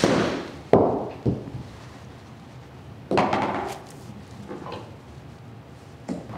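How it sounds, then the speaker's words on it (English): Two sharp clubface strikes of a golf iron hitting a ball down the fairway on a short par-four hole at Harbour Town, each a crisp close crack with a short airy tail, spaced a couple of seconds apart over quiet outdoor ambience. "I'm going to just hit my iron down the fairway"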